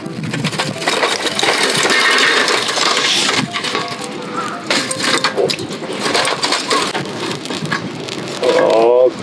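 Charcoal poured into a camping grill at a campsite, a dense continuous rattling and crunching clatter of lumps tumbling for several seconds, close and loud, with a brief tonal squeak near the end.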